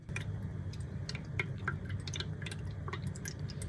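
Soft steady trickle of running water from an automatic pet water fountain, with scattered light drips and ticks, heard close up over a faint low hum.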